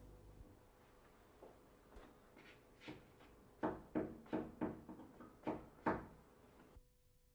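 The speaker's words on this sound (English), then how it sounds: "Using two small wedges, lift the door off the floor." A wooden door is lifted off the floor with two small wedges, making a series of faint knocks and taps that grow into sharper, close wooden thumps and then stop.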